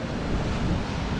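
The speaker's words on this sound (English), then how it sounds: "These waves are just coming up exactly where the Channel DJ just walked across that bit of land." North Sea surf washing in on a wild Scottish coast, a loud continuous rumble of breaking water mixed with gusting wind across the microphone, with no voices.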